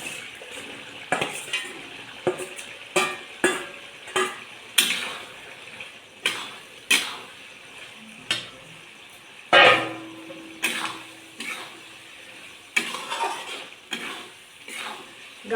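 A spoon scrapes and knocks through Rajasthani gatte curry in a pan, boiled gram-flour dumplings in oily spice masala, in irregular clinks and scrapes over a faint sizzle.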